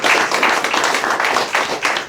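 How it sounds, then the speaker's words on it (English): An audience applauds a graduating class at a fathers and families center presentation, a steady burst of many hands clapping, loud and close, with no speech. "So let's give them another hand."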